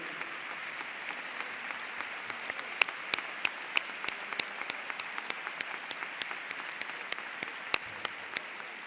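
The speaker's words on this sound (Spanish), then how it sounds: "os pido un fuerte aplauso" A crowd at a UGT union assembly in Córdoba gives a strong round of applause, a steady wash of clapping punctuated by sharp, distinct individual claps, with no voices.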